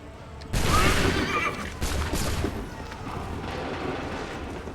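Musket volley fired in the video game Assassin's Creed III, a sudden burst of overlapping shots and rumbling boom, followed by a second ragged crackle and a lingering battlefield roar.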